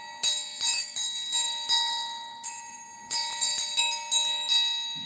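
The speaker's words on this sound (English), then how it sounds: "Y'all gotta get yourself a triangle, man." A triangle struck again and again in quick uneven bursts, each strike bright, metallic and ringing, with a sustained shimmer that decays between hits. It sounds close and loud, with nobody talking.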